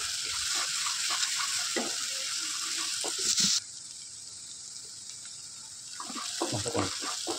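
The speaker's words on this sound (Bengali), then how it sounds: "লবণটা দিয়ে একটু ভালো করে একটু কড়াইতে নাড়াচাড়া করে নিচ্ছি" Onions frying with salt in a kadai while being stirred: a steady loud sizzle with scraping spoon strokes, the hiss briefly dropping before the stirring picks up again.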